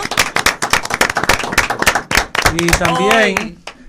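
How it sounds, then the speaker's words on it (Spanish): One person claps alone in a TV studio, a quick run of sharp, close hand claps for a couple of seconds before a voice starts talking. "Aplaudió uno solo."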